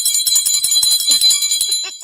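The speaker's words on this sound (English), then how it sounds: "Where's my bell?" A small hand bell is rung rapidly and loudly, a bright jangling series of close strikes lasting about two seconds, heard alone.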